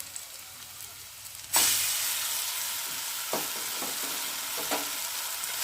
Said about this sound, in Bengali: এখন আমি বেটে রাখা সিমগুলোকে দিয়ে ভালো করে পেঁয়াজের মধ্যে দিয়ে ভালো করে নেড়ে নেব।